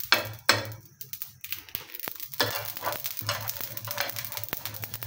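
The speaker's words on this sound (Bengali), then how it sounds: "এখন আমি জিরা, গরম মশলা, সাদা এলাচ এবং গোলমরিচ দিয়ে ভেজে নেব।" Cumin, garam masala, cardamom and black pepper frying in a pan, with crackling sizzle and a few clattering stirs and scrapes, close and moderately loud with no talk.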